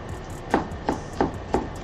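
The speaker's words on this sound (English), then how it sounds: "I like to cut as many vegetables as I can before I switch" Knife chopping vegetables for stock on a cutting board, four crisp evenly spaced thuds close by, with no talk.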